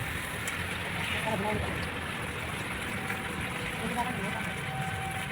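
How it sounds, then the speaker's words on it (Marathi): Water pours into a large cooking pot for a charity meal, making a steady, continuous rushing wash throughout while people talk over it. "त्यामध्ये पाणी सोडत आहे"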